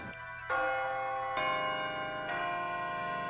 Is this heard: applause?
no